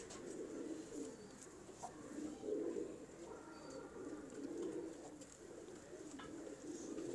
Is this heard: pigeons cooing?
yes